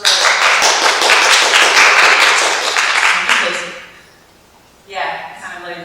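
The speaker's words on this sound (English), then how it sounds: "So if everyone will give a round of applause for Ms." A workshop audience gives a round of applause, loud steady clapping for about three seconds that tapers off into quiet before a voice begins speaking.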